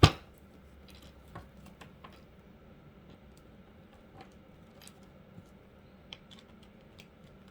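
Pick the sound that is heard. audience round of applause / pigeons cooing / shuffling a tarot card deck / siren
shuffling a tarot card deck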